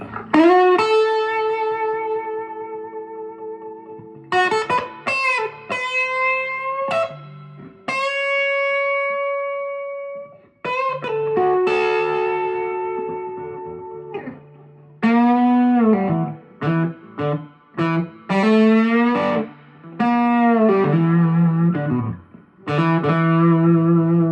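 Electric guitar through a 1967 Guild Thunderbird tube amplifier with a 12x8-inch speaker, warm overdriven tone playing sustained bluesy notes and chords, close and loud, with short pauses between phrases.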